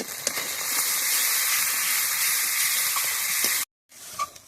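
Kashmiri red chili powder sizzles in hot oil with spice masala, a steady loud frying hiss with faint stirring scrapes, cutting out briefly near the end before the sizzle resumes.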